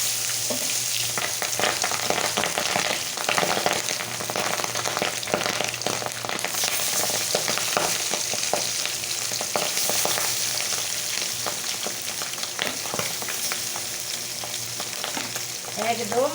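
Pabda fish frying in hot oil, a dense, loud, continuous crackle and spatter of sizzling fat heard up close, with occasional clinks, and no voices.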